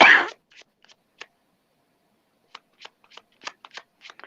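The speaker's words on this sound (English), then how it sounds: "Given the cards a bit of a shuffle" Tarot cards being shuffled by hand during a paranormal-themed talk show: a brief riffle burst at the start, then a scatter of quiet, irregular card flicks and taps with long gaps, close and dry with no talking.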